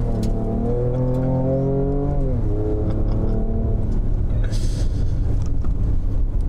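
Engine of a Ford Ranger Raptor accelerating in low mode, its tone climbing in a rising whine, dipping at a shift, then roaring on, loud and close with no talk.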